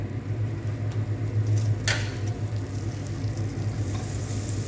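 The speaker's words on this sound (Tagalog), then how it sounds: "Sasalain ko na at igigisa ko na sa butter." Noodles for balalit, already boiled and drained, sautéing in melted butter in a pan, a steady close sizzle and stirring with a brief scrape partway through, no voices.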